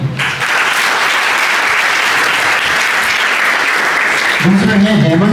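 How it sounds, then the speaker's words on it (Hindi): An audience at a sports day induction event breaks into loud, sustained applause, a dense wash of clapping that holds steady, before a voice begins speaking near the end. "मैं सभी नाम के साथ चाहूँगा कि आप तालियों के साथ उनको सम्मानित करें।"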